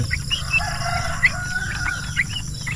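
Chickens on a backyard poultry farm kept alongside turkeys and geese cluck in short bursts over a steady low background hum, with scattered sharper calls standing out.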